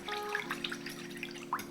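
Water is poured onto a concentrated marinade for ramen eggs, making faint, quiet trickles and a few small drips over a low, steady background hum.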